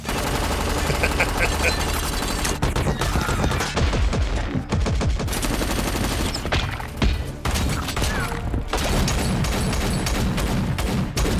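Sustained, heavy bursts of automatic gunfire and impacts from an action scene in the film Terminator: Dark Fate, loud and nearly continuous with brief gaps.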